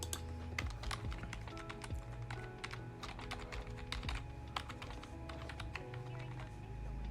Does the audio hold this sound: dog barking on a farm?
no